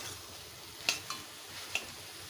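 Vegetables frying in a pan for pumpkin leaf bhorta: a steady close sizzle with a few light stirring clinks and scrapes of a utensil against the pan.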